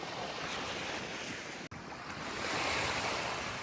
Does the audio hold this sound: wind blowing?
yes